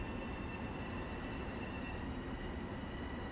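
A train rumbles steadily past in the Train Sim World Long Island Rail Road game, a continuous low roar of rolling wheels with no pauses and no voices.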